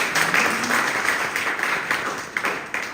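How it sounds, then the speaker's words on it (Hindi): A crowd applauds, with many hands clapping in a dense, steady patter that thins slightly toward the end. "एक बार जोरदार तालियां चाहेंगे"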